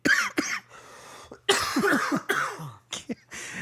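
A series of harsh coughs in several bursts with short pauses between, close and fairly loud.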